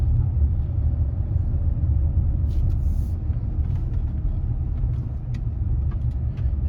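Range Rover driving after a brake repair, a steady deep engine and road rumble heard from inside the vehicle, continuous and fairly loud, with faint higher clicks and rattles.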